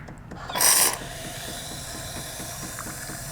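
A Jura S8 coffee machine dispenses milk, opening with a short loud hiss of steam and air, then settling into a steady mechanical pumping whir with faint rhythmic clicking that runs alone to the end.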